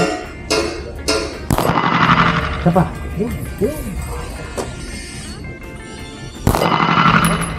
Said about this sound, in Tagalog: Heto yung sample ng 9mm pistol.